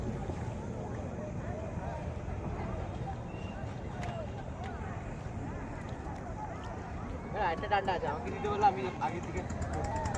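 A boat pulls away on the Dawki River near the Bangladesh border, giving a steady broadband rumble of engine and water with wind buffeting the microphone, and scattered voices join toward the end.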